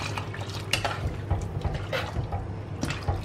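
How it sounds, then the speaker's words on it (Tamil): Hot water poured into a pot of simmering Tamil kara kulambu, a soft splashing and trickling with faint clinks of a vessel, heard close up with no talking. "இப்போ இன்னும் கொஞ்சம் நீங்கள் சுடு தண்ணி ஊற்றிக்கிங்க"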